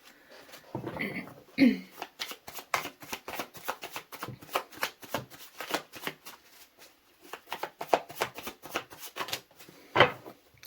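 Playing cards riffled and shuffled by hand for a reading, a fast flutter of crisp snaps heard close, with short pauses between bursts and a couple of louder slaps.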